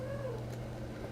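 A house cat meows in the foreground, one drawn-out cry over a steady low hum, with no voices.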